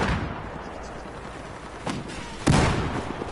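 Gunfire and a grenade blast in the video game Battlefield 4: a steady crackle of shots, then two sharp bursts, the second and louder one landing near the end with a rumbling tail.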